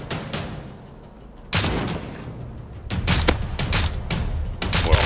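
Gunfire in the survival game Rust: sharp bursts of shots, including a loud crack partway through and a rapid cluster of blasts near the end, over a rumbling background with no talking.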